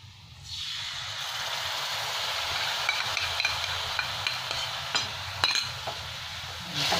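Okra and yogurt stirred in a pan with the gas turned off: a steady sizzling hiss with scattered scrapes and taps of a utensil against the pan, up close and alone.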